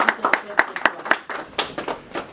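Applause from a forum audience, a small group clapping in scattered, uneven bursts of distinct claps, close and fairly loud, with a voice speaking over it.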